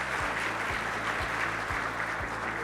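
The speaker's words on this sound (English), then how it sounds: "can we get a big round of applause?" Audience applause at a cybersecurity certification signing ceremony, a steady, even wash of clapping from the floor with a faint rhythmic low thump underneath.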